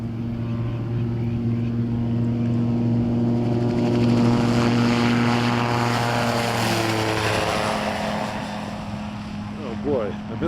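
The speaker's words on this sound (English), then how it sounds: "Oh boy, I missed the flyby." A propeller aircraft makes a flyby. A loud, droning engine hum swells and then changes pitch as it passes, with people talking faintly underneath.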